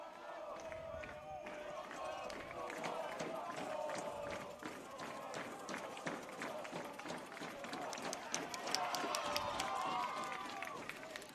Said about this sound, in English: Crowd is loving it now.